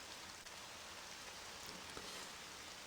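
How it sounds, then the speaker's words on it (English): Steady rainfall from an RPG Maker sound effect hisses evenly throughout, quiet and continuous, with a few faint drops ticking through the wash. "Rain sound effect and thunder came from RPG Maker."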